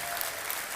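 A brief burst of dense audience applause, steady and fairly loud, rises in honour of Mama Mwangi at a community gathering.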